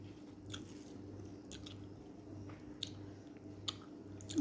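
Close-up chewing of rice with pumpkin bori curry at a lunch meal, soft wet mouth sounds in a steady rhythm with occasional sharper clicks and crunches, no voices.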